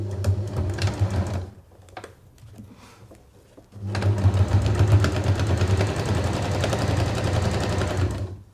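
Sewing machine stitching a zip onto a fabric make-up bag, a steady close mechanical whirr that runs, pauses briefly to a quieter hum, then resumes at full speed for several seconds without talk.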